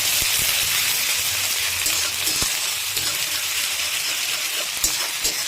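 Chopped green chilli, ginger and onion frying in a pan for eggplant bharta, a soft, steady sizzle with faint occasional taps and clicks, no voices.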